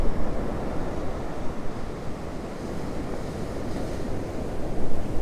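Hurricane Milton's storm surge rolls onto a Gulf beach, making a dense, continuous roar of crashing surf mixed with strong wind. The sound is loud and close and swells slightly near the end, with no voices.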